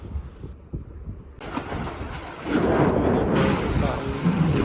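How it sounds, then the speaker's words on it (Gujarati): Strong wind during a windstorm buffets the microphone with a loud, low rumbling roar. The gusts surge and grow heavier through the second half. "વાયરો કે થોડો થોડો તો ચાલુ જ છે, તમે જોઈ શકો છો."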